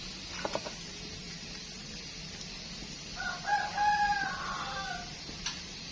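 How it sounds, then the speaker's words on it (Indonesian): A rooster crows once at a distance outside a kitchen next to a garden, its drawn-out call faint over a quiet background with a few soft clicks before it. "Ini karena dapur dekat kebun, ada suara ayam berkokok"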